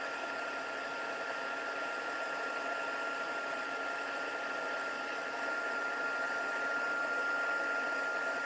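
A heat tool blows hot air over a festive scented craft decoration, giving a steady, even whoosh that holds the whole time with a faint high whine running through it. There is no talk.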